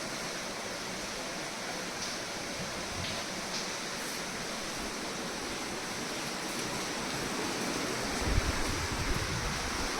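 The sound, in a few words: floodwater pouring into a bedroom during a cloudburst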